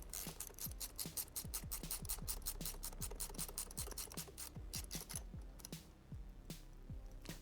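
A ratchet tightens the brake lever bolt on a BMW G310R motorcycle with a rapid, even series of crisp clicks, steady and close, slowing slightly near the end.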